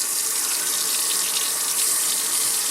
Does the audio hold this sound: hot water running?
yes